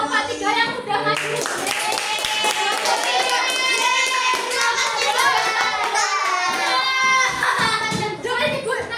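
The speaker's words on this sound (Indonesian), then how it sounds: "Coba ibu mau minta tepuk tangan buat lomba 3 yang udah maju" A class of schoolchildren in an Indonesian elementary science lesson claps together for a group of classmates, close and lively, with excited children's voices and cheering mixed in throughout.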